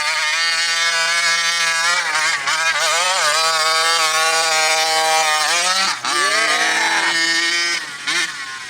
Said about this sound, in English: All that torque spinning those tires in the snow.